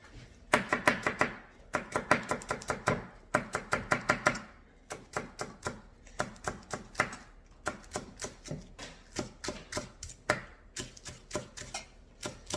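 Knife chopping vegetables on a cutting board for a veggie omelet, steady rapid bursts of crisp taps with brief pauses, close and clear with no talking.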